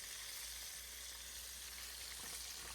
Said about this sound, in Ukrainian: Як першу партію вийняли, додаємо ще карасиків посмажитись.